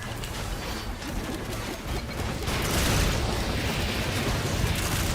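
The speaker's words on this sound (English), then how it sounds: "It's just fireworks, Jay." Fireworks explode in a video game with a dense, continuous rumble of blasts and crackle, loud throughout and swelling further after the midpoint, with no talk over it.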